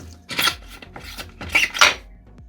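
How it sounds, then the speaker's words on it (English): Rusty swingarm spindle being pulled out of a Hayabusa motorcycle, heard as four rough, grinding rasps of metal scraping against corroded metal, close and fairly loud, with short pauses between them. "Now we can pull the spindle out, but I need to hold on to the swing arm while I'm doing that."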